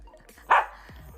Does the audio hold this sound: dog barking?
yes